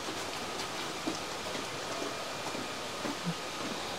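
Rain falls steadily with a soft, even hiss, faint and continuous, with no talking.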